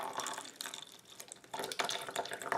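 Water from inside a pudding or flan squishy toy pours and trickles into a small cup, a close, uneven splashing stream with brief drips, and no talking.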